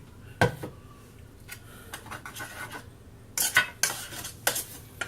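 A spoon stirs cinnamon into apple pie filling in a bowl, making uneven bursts of scraping and clinking against the dish with quiet pauses between strokes.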